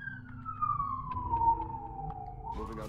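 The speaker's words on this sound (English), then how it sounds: "I never thought I'd hear, actually realistic police sirens in a game" Realistic police sirens in the XCOM Enemy Within strategy game, a single wailing tone sliding slowly downward over a low rumble of game ambience, steady and moderately loud throughout.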